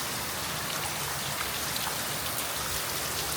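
Morning rain falling heavily with water splashing and dripping, a constant close, even roar of droplets with no voices.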